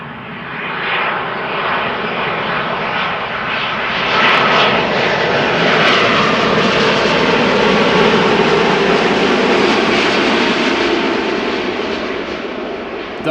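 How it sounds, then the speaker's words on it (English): Passing airliners at Amsterdam Schiphol, a Delta Airbus A350 followed by an Air Canada Boeing 787 Dreamliner, give a loud, steady jet roar that swells slightly midway and holds close and dense throughout, with no talk. "Delta A350 behind it, and now a Dreamliner from Air Canada with the sunglasses look on the cockpit"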